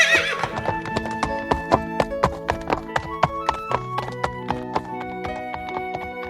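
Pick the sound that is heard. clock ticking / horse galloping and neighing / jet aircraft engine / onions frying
horse galloping and neighing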